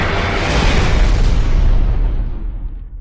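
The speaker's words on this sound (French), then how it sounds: "Ah, sacrée explosion, dis donc." A loud, rumbling explosion of a ship in the video game Gears of War 3 roars and sustains for a couple of seconds before slowly fading, with no talk over it.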